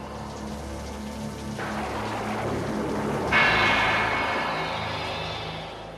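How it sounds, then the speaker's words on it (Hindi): Heavy rain pours down on a deserted road at night, a steady broad hiss that thickens and grows louder about halfway through before easing slightly. "बहुत तेज बारिश भी हो रही है"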